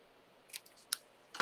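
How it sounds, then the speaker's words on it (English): Scissors snipping off a small piece of material during inking work, three short sharp clicks spaced apart, close and quiet in a still room. "maybe I'm just going to cut a little piece of this"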